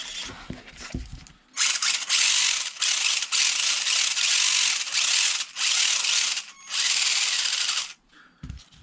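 A small electric motor in a 1/16 ZD Racing S16 Rocket RC car whines loudly in several bursts, revving up and cutting off repeatedly, with a high buzzing tone close by.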